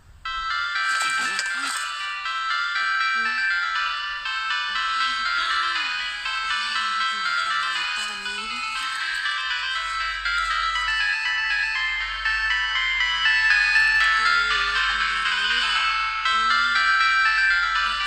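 A bright, melodic mobile phone ringtone plays continuously, with faint voices speaking underneath the tune.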